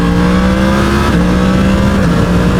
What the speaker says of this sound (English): Very smooth indeed, just snicks straight up into that next gear.